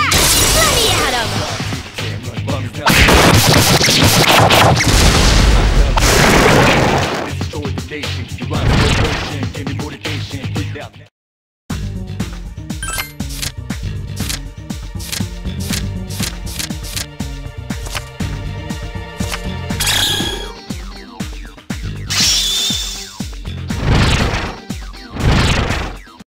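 Rapid burst of hits, smashes and whooshes from an all-out attack in the video game Persona 3 Portable, dense percussive impacts and crashes over battle music, with a short gap midway and character voices shouting.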